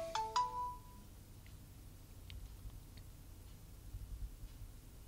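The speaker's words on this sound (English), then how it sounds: "Damn phone, I forgot to turn it down." A phone ringtone plays a brief electronic melody of a few tones at the start, then cuts off, leaving faint room noise with scattered small ticks.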